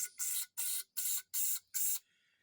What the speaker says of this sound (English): be pretty liberal with the spray. I spray it pretty good.